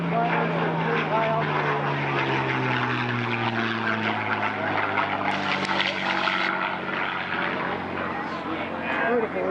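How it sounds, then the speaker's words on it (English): A Mustang fighter plane drones past high overhead, its propeller engine a steady, sustained roar with a slowly falling pitch, while people talk and comment over it throughout. "they're looking at the Mustang coming in for a landing somewhere"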